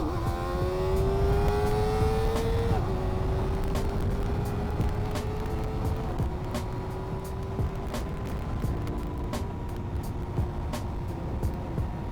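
A Kawasaki ZX4RR motorcycle being ridden back from the Kyiv Sea: a steady, close engine drone whose pitch climbs and then drops in steps as the gears change, with constant wind rush and no talking.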